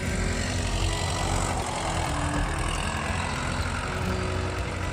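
A Ford 500 tractor plowing a field on a farm in the Philippines gives a continuous, moderately loud engine rumble mixed with broadband noise, steady throughout with no speech.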